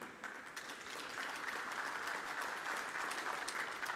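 Audience applause at a tourism and airlift routes launch event in Nelson Mandela Bay, a dense, even wash of clapping from a crowd heard at a distance, steady for several seconds without talk.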